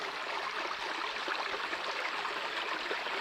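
A distant village stream rushes in a steady, unbroken wash of water noise, heard from afar with no voices.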